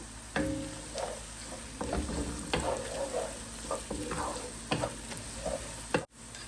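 Whole spices frying in a pot at the start of a biryani, a steady sizzle broken by scraping stirs and clinks, close and without talking.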